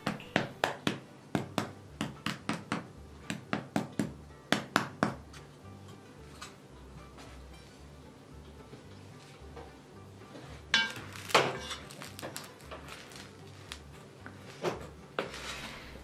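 Sharp knocks on the hard crust of freshly baked homemade bread in its pot, a quick series of crisp hollow taps near and clear, then a quieter pause before more clattering knocks and handling.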